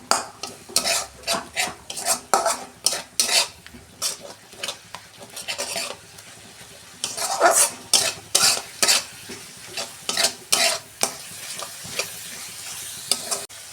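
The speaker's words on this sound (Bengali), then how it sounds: "অল্প জল দিয়ে আমি কষাবো 2 মিনিট।" Spice paste with turmeric and chili powder frying in a pan while being stirred, with bursts of loud sizzling and scraping strokes coming in a quick, uneven rhythm, close up.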